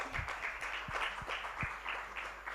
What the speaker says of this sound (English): A round of applause as she makes her way